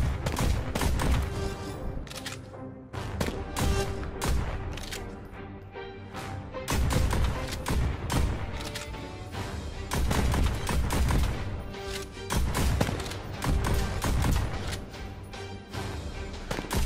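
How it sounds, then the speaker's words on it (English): Continuous gunfire from enemies in the VR shooter Pistol Whip, a dense, loud barrage of shots and blasts layered with game music, running almost without pause through the whole stretch. "They be coming at me shooting quick."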